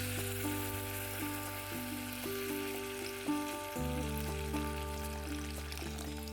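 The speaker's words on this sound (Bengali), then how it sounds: "মশলা কষানো কমপ্লিট এবারে জল ঢেলে দিচ্ছি" Water poured into a pan of fried spice masala sets off a loud, continuous sizzle and hiss that stays steady throughout, with a musical tone playing underneath and no talking.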